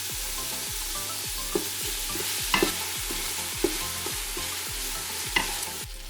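Chopped white onions and minced garlic sizzle in an Instant Pot, giving a constant close frying hiss with occasional soft scrapes from stirring over a faint background hum.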